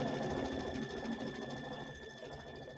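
An embroidery machine stitches a crosshatch quilting fill with small asterisk motifs in black thread, a steady rapid mechanical hum with fine repeating clatter running continuously at close range, fairly quiet.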